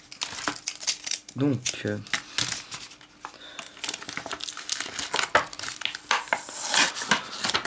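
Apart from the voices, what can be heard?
crinkling wrappers of Pokémon booster packs being opened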